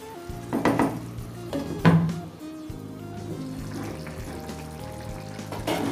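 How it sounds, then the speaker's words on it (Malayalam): Marinated chicken stirred into bubbling chicken curry gravy in a pot, a steady sizzle and simmer with a few scraping stirs and clinks near the start, close and fairly loud, no voices. "അതിലേക്ക് നമുക്ക് മാരിനേറ്റ് ചെയ്ത് വെച്ചിരിക്കുന്ന ചിക്കൻ ഇട്ട് കൊടുക്കാം."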